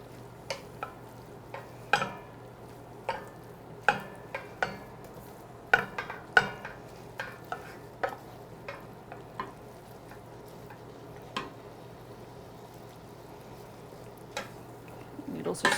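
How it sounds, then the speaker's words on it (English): Soba noodles with broccoli rabe and soy sauce are stir-fried in a pan, with sharp intermittent clicks and taps of a utensil against the pan over a faint sizzle and low hum, with no talk. "We're just going to kind of stir fry that."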